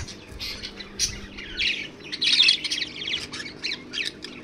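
Several birds squawk and chirp in a busy, overlapping chorus close by, with louder harsh calls bunching up around the middle and no voices present.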